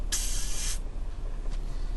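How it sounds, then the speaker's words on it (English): Coolant sprays out of a leaking hose fitting on a car's cooling system in a single sharp hissing burst lasting under a second, followed by a softer, fading hiss. "It's like just a squirt, like when you squirt out of a spray bottle, right where it comes out of the nozzle."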